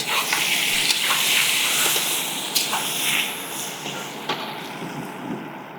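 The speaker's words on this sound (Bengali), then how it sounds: "আলুটা এইভাবে একটু বয়েল করে হালকা হাফ বয়েল এটাকেও এভাবে ভেজে নিচ্ছি দেখুন" Half-boiled potatoes frying in a pan make a steady loud sizzling hiss, with a few sharp crackles and pops throughout.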